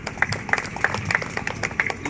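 An audience claps for dance performers at a Sri Rama Navami celebration, a steady patter of hand claps with sharp individual slaps standing out.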